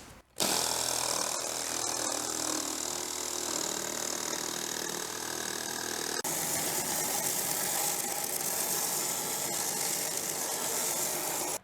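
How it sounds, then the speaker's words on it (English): Jigsaw cutting a circle out of a workpiece: a loud, continuous buzzing saw drone starts abruptly and runs steadily for over ten seconds, close to the microphone, with no talk. "What I'm going to do now is just cut out this circle quickly with the jigsaw"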